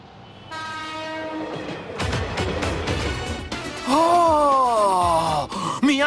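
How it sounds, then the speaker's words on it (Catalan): An anime train in motion, rattling clatter and rumble with a long harmonic whistle-horn blast near the start and another wavering horn call later, loud and close with no speech over it. "No és un carro de cavalls, ja t'he dit que és un tren, Tamahome"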